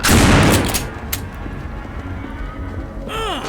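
Gunfire in the zombie video game No More Room in Hell opens with a loud burst of rapid shots. It fades into low rumbling game noise, and a sweeping whoosh comes near the end.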